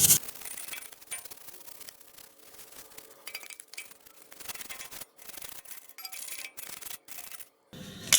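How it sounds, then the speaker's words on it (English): Brisk, uneven brushing and scrubbing against a motorcycle engine, with short pauses and occasional light clinks, fairly close. "agitate it a little bit with a brush"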